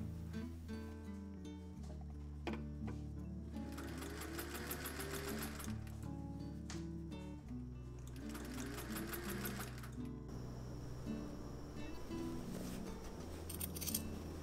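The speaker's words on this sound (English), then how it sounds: "stitch down all the seam allowances from the right side of the hat" A sewing machine runs steadily, stitching down the seam allowances of a bucket hat from the right side, with a close, continuous whirring drone and a few short pauses and restarts throughout.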